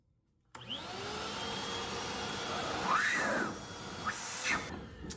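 A Bauer 6-gallon wet/dry vacuum switches on with a sudden start and settles into a steady, loud whirring roar, close by, with a few brief shifts in pitch as it runs. No one talks.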